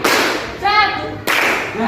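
A class of students claps once together during a classroom clapping game, a single sharp, loud burst, briefly followed by a voice and then another quick clatter of hands.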